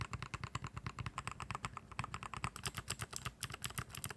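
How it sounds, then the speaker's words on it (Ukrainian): Rapid, steady typing on a mechanical keyboard with clicky switches, each keystroke a crisp, close click in a dense, continuous rhythm with no talking. "та звичайно ж клікаючі. Вони будуть гучні"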